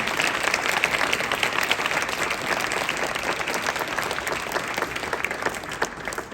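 Audience at a winter church youth retreat gathering breaks into steady, full applause, dense clapping from a large crowd sustained throughout without pause.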